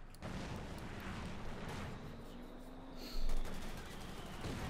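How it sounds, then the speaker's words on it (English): Mortar fire in the Company of Heroes 2 strategy game: a dense, continuous wash of battle noise with rumbling blasts throughout and a louder boom near the end. "More mortar fire there."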